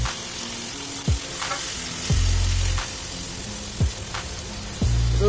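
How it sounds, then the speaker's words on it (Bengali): Onion, ginger-garlic paste and grated tomato fry in a pan with a steady close sizzle, broken by several loud scraping stirs of a spoon against the pan. "রসুন আর আদা কাঁচা গন্ধটা না যাওয়া পর্যন্ত আমি একটু কষিয়ে নেব"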